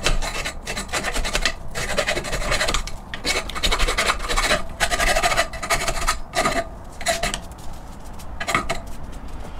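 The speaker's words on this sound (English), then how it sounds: "I'm just gonna use a file to smooth out the sharp edges." A hand file rasps along the sharp cut edges of a steel hitch receiver, with steady repeated strokes close up, briefly pausing between passes; no talk.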